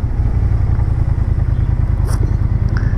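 A 2022 motorcycle with LED lights and an aftermarket exhaust idling close by while being parked, a loud steady low rumble with a brief higher clink near the end, no talk.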